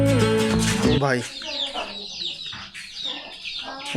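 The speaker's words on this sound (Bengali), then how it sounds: "লাকি মুরগিকে আগে খাঁচার মধ্যে ঢুকাইতে হবে" A chicken clucks close by, about to be put into a cage. It starts with a loud, tonal squawk, then gives a run of short, choppy clucks.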